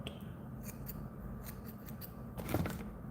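Scissors snip through bucktail hair at a fly-tying bench, a few quiet close cuts ending in one firmer snip, faint against a low background hum.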